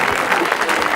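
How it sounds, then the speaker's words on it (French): A studio audience at a 1982 Swiss French-language TV variety show applauds steadily, a dense, continuous patter of clapping throughout the short moment with no break. "on l'applaudit bien fort"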